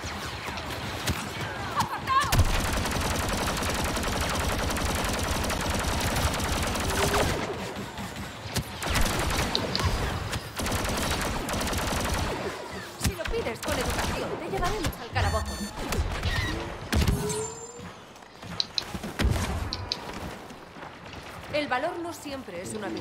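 Blaster fire and battle noise in a cooperative Star Wars rebellion video game: bursts of rapid shooting, impacts and explosions, dense and loud at first, then sparser shots and clatter mixed with game sounds.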